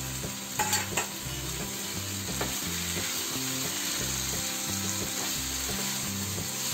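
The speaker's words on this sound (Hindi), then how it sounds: "अब इसमें मैं शिमला जो कट करके रखी हूँ उसे डालकर थोड़ा देर भून लेते हैं" Chopped capsicum frying with peas and masala in a pan, a steady loud sizzle throughout with repeated rhythmic stirring scrapes and a few utensil knocks, no voices.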